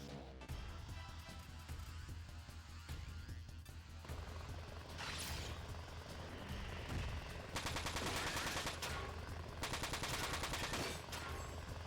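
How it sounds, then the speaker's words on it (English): Battle in the Front Mission 4 video game: bursts of machine-gun fire and crashing impacts mixed with helicopter rotor noise, fairly loud and continuous with rapid repeated volleys. "I think the helicopters are what need to get brought down, really."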